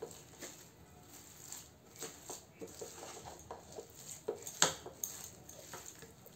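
Semolina and oats dough is mixed and pressed in a pan on the stove with a spoon, giving quiet, irregular scraping and tapping against metal, faint and close, with a sharper clink midway.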